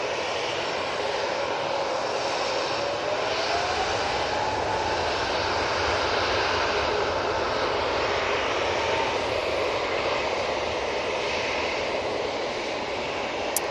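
An Airbus A321neo jet departing Manchester Airport roars steadily at a distance, a broad continuous engine rumble with a faint rising whine, sustained throughout without voices.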